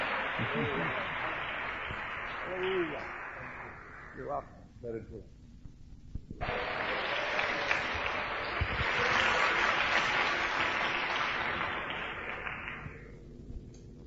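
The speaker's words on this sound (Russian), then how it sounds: "Давайте воздадим Господу аплодисменты." Congregation applause in a church service, broad clapping that swells twice, with a voice speaking over the first stretch and a short lull between the bursts.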